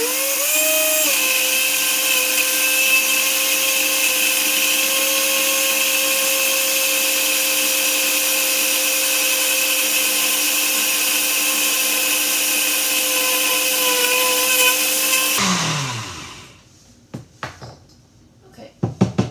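An old blender making a chocolate banana milkshake whirs loudly and steadily, its motor pitch dipping briefly at the start, then shuts off and winds down, followed by a few soft clunks.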